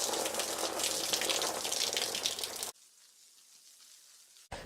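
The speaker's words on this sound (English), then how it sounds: "Okay, water's coming out of the center." Water pours into a garden container plant with a loud, close, hissing splash, then cuts off abruptly to a much quieter trickle of draining water, with a brief splash again at the end.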